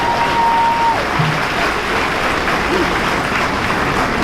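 Audience applause at a university gala program, a dense steady clapping from a large crowd filling the room, with a short tone at the start and faint voices under it.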